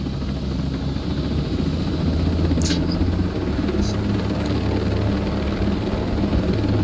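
In the Ghost Recon Breakpoint video game, a helicopter engine runs with a dense low rotor drone and a steady mechanical roar, loud and continuous throughout, with a couple of brief faint high chirps over it.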